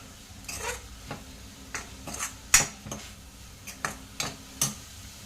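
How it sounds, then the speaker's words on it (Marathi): Dry fruits being stirred by spoon into a jaggery and coconut modak filling in a pan, a string of separate light scrapes and clinks at an uneven pace, close and fairly quiet, with no talking. "आता हे जे ड्रायफ्रूट्स आहेत ते मी सगळे ह्याच्यात ॲड करून घेणार आहे. तेही छान आपण मिक्स करून घेऊया"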